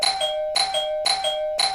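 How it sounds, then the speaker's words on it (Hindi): A home doorbell rings repeatedly, with bright ding-dong chimes sounding four times in a steady rhythm, loud and close with no voices. "अरे भाई घंटी बजी, घंटी बजी, जाओ और जाकर देखो दरवाजे पर"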